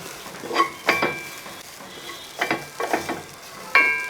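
Grated coconut dry-roasting in a pan for egg curry, stirred continuously with a spoon that gives intermittent scraping and clinking strokes over a soft low crackle, close and moderately quiet.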